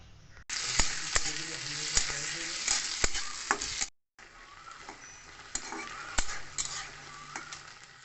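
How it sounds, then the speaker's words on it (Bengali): Soaked, pressure-cooked chickpeas fry with onion in a pan, a loud close sizzle broken by clanking stirs against the metal, briefly cutting out before the hiss resumes more softly. "এবার একটুখানি বেশি করে পেঁয়াজ দিয়ে ছোলা কলাইটাকে ভালো করে ভুনে নিই।"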